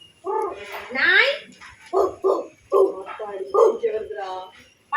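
A performer does a vocal impression of a dog: a string of yelping barks, a whining yip and short woofs in uneven bursts, close and clear, with the person's voice imitating the animal.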